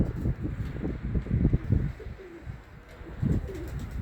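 Pigeons coo in repeated low, throaty bursts, several overlapping calls close by, with soft wind noise between them and no talking.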